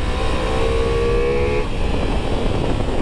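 A Ducati Multistrada V4 S motorcycle engine screams at high revs, a steady whining tone riding over heavy rumble and wind noise before the pitch drops away.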